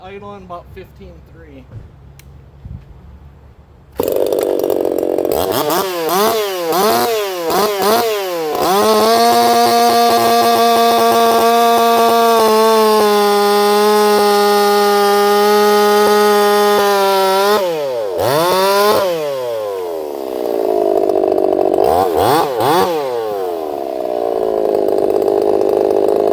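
A chainsaw engine revs hard during test cuts, loud and close, climbing to a steady high-pitched whine. It drops off briefly, then revs back up.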